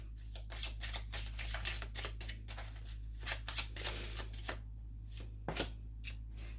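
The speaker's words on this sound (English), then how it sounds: "Let's get an Angel Romance Oracle card." Angel Romance Oracle cards being shuffled by hand in a stream of papery riffles and flicks, fairly close and steady, with a few brief pauses and no talking.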